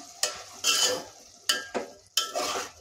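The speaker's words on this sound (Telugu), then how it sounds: "కూర అంతా బాగా కలిసేలా తిప్పేసుకోవాలి" Prawn, brinjal and potato curry stirred in a pan, with several distinct scraping strokes of a spoon against the metal, separated by short pauses, close and fairly quiet over a light sizzle.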